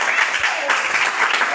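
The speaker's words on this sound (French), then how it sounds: "applaudissez encore" Applause from a gathered audience at a football club's Golden Week event, a steady wash of clapping lasting under two seconds with a faint voice mixed in.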